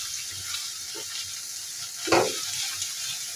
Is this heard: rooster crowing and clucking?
no